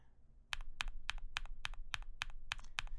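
Gateron Dual-rail Lunar Probe linear keyboard switches typed in a steady rhythm of about ten crisp, clacky, fairly high-pitched keystrokes, close and clear, starting after a brief quiet moment.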